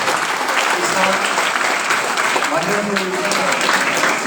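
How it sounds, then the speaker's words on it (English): An audience applauds steadily and densely for a few seconds at a college talk by Babar Ali, the world's youngest headmaster, with faint voices mixed into the clapping. "So please give a big round of applause."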